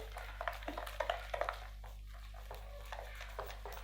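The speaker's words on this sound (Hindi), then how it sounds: "इसको अभी हम मिक्स करेंगे अच्छा सा, अच्छे से इसको मिक्स करके" Mutton is mixed by hand with meat tenderizer powder and spices, giving soft, irregular wet squelches and light clicks, faint and close, with a brief pause partway through.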